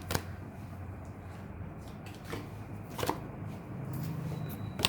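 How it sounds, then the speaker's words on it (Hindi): Tarot cards handled and shuffled, with a few sharp light taps and slaps as cards drop onto a surface against a quiet room background, no speech. "एक कार्ड और गिरा है"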